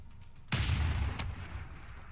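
Artillery in Civilization 6 fires on a city: one sudden loud boom with a short sharp crack just after, trailing into a rumbling tail, no talking.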